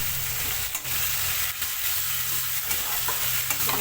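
Spice masala with ginger paste frying in oil, a dense constant sizzle broken by several brief scraping stirs, close and steady with no speech.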